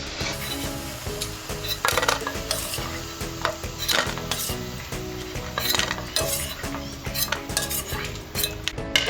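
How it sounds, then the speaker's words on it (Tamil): Okra pakoda frying in oil, a dense continuous sizzle layered with metal utensil clinks and stirring scrapes against the pan, close and fairly loud throughout. "பேலன்ஸ் இருக்கிறதையும் அதே மாதிரி நம்ம எண்ணெயில் போட்டு எடுத்துக்கலாம். நல்லா வேகட்டும்."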